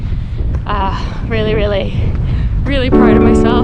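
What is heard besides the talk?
wind on a coastal hike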